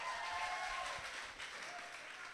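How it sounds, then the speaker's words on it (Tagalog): Scattered applause from a church congregation, fairly faint and steady for a couple of seconds with no voices over it. "Pumalakpak po dito yung mga pogi."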